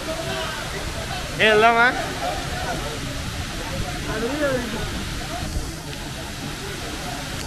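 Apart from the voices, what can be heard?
waterfall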